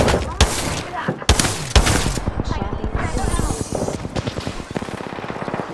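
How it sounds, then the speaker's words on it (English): Rapid automatic gunfire in the Apex Legends battle royale, loud and sustained bursts with sharp individual shots at first, then a fast rattling stream of rounds. "I'm shooting."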